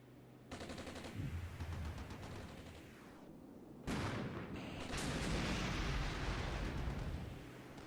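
Gunfire and explosions in the war strategy video game Armored Brigade, a dense, continuous roar of rapid shots and blasts that swells louder midway and keeps rumbling, with no talking.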